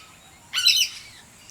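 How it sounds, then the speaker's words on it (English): Single harsh, noisy call from a noisy miner, a social Australian honeyeater, sounding close and loud for about half a second against a quiet background. "They're called noisy miners. They're social honey eaters"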